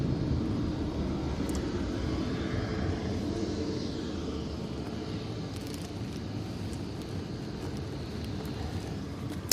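Jet2 Airbus A321neo coming in over Stockport to land at Manchester Airport in stormy weather, a broad steady jet roar with wind noise, holding fairly loud and even across the whole stretch.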